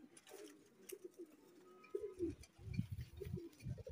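Pigeons coo softly at a pigeon sale market, several low throaty coos repeating in short bursts, fairly close, with faint chirps and light background clatter and no speech.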